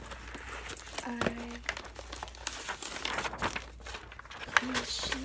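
Sheets of paper crinkle and rustle in scattered bursts throughout, with a soft voice talking quietly over the handling.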